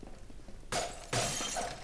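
Glass shatters in Half-Life 2: two loud, bright crashes of breaking glass, the second following about half a second after the first, each with a sustained tinkling spray of shards.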